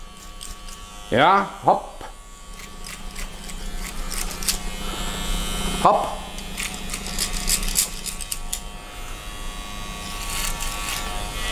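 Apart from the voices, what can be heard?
electric hair clipper cutting hair over a comb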